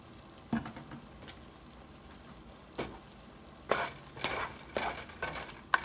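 Mushrooms sauté in olive oil in a pan with a quiet, steady sizzle, broken by several louder scraping stirs and clinks of a utensil against the pan, with no talking.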